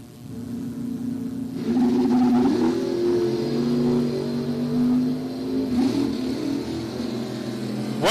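Drag racing at the U.S. Bracket Nationals, a '67 Camaro and '74 Vega launching: engines rise from a low idle into a loud rising rev and roar, sustained, with a second surge near the end.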